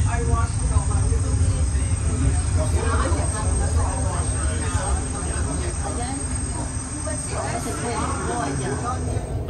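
Montreal REM light rail train running, a steady loud rumble and hum of rolling stock throughout, with a faint high whine and soft voices murmuring in the background.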